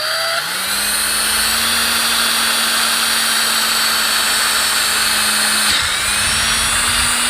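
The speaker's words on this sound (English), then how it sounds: "You can tell this drill bit is not as sharp as the last drill bit, because it takes a few seconds longer to get through very soft plastic." A power drill with a dull bit whines continuously through soft plastic sewer pipe, the motor pitch holding steady with a brief dip near the end, loud and close.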